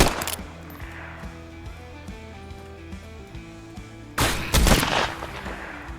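Enemy gunfire in the Western video game Cowboy Life Simulator: a sharp volley at the start, then a louder burst of several shots a few seconds later, with game music playing in between.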